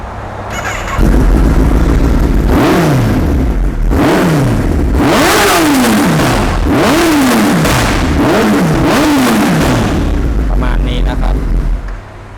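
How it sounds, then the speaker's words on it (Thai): A motorcycle fitted with an aftermarket short exhaust is revved hard about six times in a row, each throttle blip rising and falling sharply, loud and close over a steady rumbling idle. "เดี๋ยวลองฟังเสียงเครื่องยนต์กันดูนะครับ"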